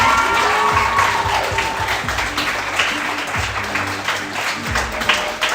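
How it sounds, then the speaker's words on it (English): Audience applause with some cheering at an under-21 open mic poetry event, a dense, steady wash of clapping that carries through the whole stretch without letting up. "clap it up one more time"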